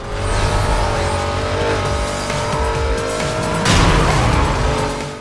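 Racing cars in Need for Speed: Most Wanted roar continuously at close range, with a loud engine drone, tire squeal and a heavier crash or skid burst near the end, no talking.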